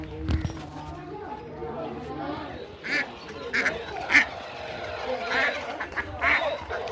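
A duck quacks in several short, raspy bursts, some louder and closer than others, over background chatter and household noise.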